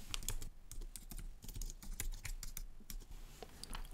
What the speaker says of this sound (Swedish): i rutan för smeknamn så skriver du vad du vill att den ska heta